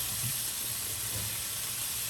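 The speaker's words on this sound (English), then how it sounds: "Now I'm ready to add my zucchini." A steady, close hiss comes from a pan of ratatouille vegetables as zucchini is added, with a continuous sizzle and no talk.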